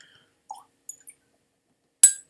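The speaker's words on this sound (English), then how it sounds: "I'm going to add a little bit of water." A few small drips of water fall into a glass of Glen Deveron 20-year Highland single malt Scotch whisky, then a brief, sharper splash of poured water follows. All close and fairly quiet, with no talking.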